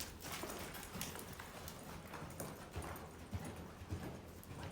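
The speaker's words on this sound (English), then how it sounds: "Nice little lope off there, and we'll get him to stop right here and do one more." A horse loping on dirt during colt starting, with soft rhythmic hoofbeats heard at a distance over faint outdoor background noise.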